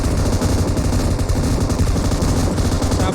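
Rapid automatic gunfire from the battle royale video game PUBG, a continuous dense rattle of shots filling the whole stretch at steady loudness, with no clear pauses between bursts.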